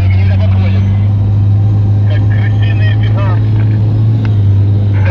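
Off-road car engine holding steady at roughly 2700 rpm, a loud continuous low drone that fills the whole stretch, with people talking over it inside the cabin.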